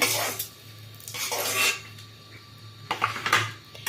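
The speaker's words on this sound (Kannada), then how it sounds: "ಮೊಟ್ಟೆ ಎಲ್ಲ ಫ್ರೈ ಆಯಿತು, ತೆಗಿತಾ ಇದ್ದೀನಿ ಪ್ಲೇಟ್ಗೆ" Fried eggs lifted out of a pan onto a plate, with a few sharp metal clatters and scrapes of utensil on cookware in short bursts and quiet gaps between.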